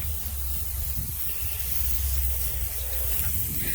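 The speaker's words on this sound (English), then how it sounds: "Spray out that one up there." Steady broadband hiss of a spray being applied to a freshly milled bur oak log on a Tru-Cut sawmill outdoors, continuous and even at moderate level with a low rumble underneath, no talking.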